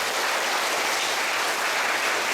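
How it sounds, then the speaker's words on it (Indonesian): A church congregation applauds during an Advent Sunday service, a dense steady clapping that fills the room for a couple of seconds without any voices over it. "Tepuk tangan."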